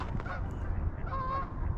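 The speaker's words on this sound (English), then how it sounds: "Oh, some more geese coming in here somewhere." Geese honking on a walk in downtown Calgary in March, several calls blending together at moderate distance over steady outdoor background noise.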